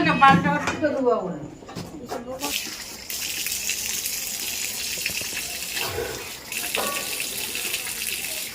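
Tap water runs and splashes in a basin during face washing, following a few sharp clatters and a voice at the start, then settling into a steady, moderately loud gush.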